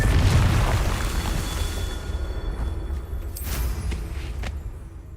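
A Confringo fire spell from Hogwarts Legacy erupts in a loud booming blast at the start, followed by rumbling debris and a few sharper bursts over a steady game background.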